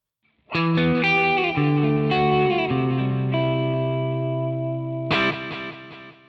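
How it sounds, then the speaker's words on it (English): Electric guitar chords through a BOSS GX-100 and ToneX ring out with echoing stereo delay repeats and a wide reverb tail, then a fresh strum near the end. "let's load in a delay as well"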